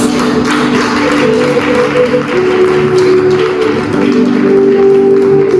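Church congregation applauding over sustained music, a steady spread of clapping with tonal accompaniment underneath, loud and continuous.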